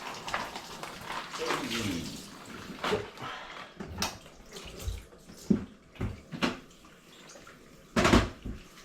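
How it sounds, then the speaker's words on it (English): A kitchen knife rinsed under a running tap, water splashing and gushing with sharp clatters and bursts of spray, loudest near the end; a person talks over the running water. "I like to wash my knife quickly"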